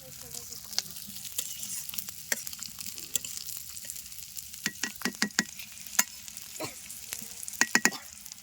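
Bitter gourd (karela) frying in oil sizzles steadily and crackles, with frequent sharp spatters and occasional clicks from stirring in the pan.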